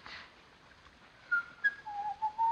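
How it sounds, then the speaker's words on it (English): Faint whistling of a short melody, several thin rising and falling notes, quiet and somewhat distant against a near-silent background. "Oh, do stop whistling."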